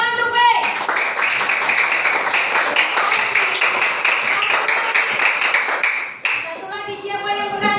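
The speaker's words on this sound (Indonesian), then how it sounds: "Tepuk tangan tuh, Pe" A classroom of children claps together, a dense, loud burst of applause that holds steady for several seconds and then breaks off sharply, with children's voices rising just afterward.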